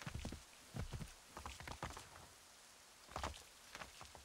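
Horse hooves clip-clopping in Assassin's Creed 3, a soft, quiet series of thudding steps coming in irregular clusters with brief gaps between them, heard alone without talk.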